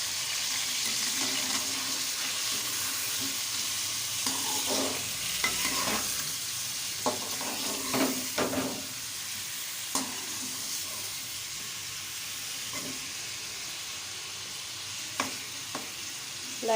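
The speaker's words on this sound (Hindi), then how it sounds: "हम बाकी ऑयल के अंदर जो है वो चिकन ऐड कर देंगे। इसको लाइट सा फ्राई करेंगे।" Chicken pieces lightly frying in oil for a chicken qorma, giving a steady sizzle broken by clinks and scrapes of stirring throughout, with no talking.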